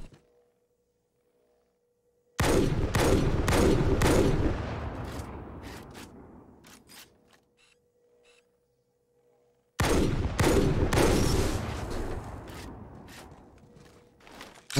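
Classic battle rifle and sniper rifle fire from the Halo video game: two loud bursts of rapid, cracking shots, each trailing off into a reverberant tail, with near silence before and between them.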